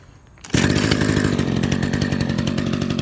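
Echo HC-1500 hedge trimmer's small two-stroke engine fires up after a quiet moment and settles into a loud, buzzy, steady running drone close by.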